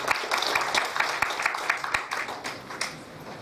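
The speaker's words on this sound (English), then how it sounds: "I think we should give Jonathan a round of applause" Audience applause after a health promotion conference talk: dense, steady clapping from a crowd, fairly close and sustained throughout with no speech over it.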